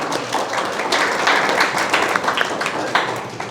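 An audience in a hall claps steadily in welcome for a monk and spiritual mentor taking the stage, a dense, even patter of many hands that swells slightly and holds for a few seconds.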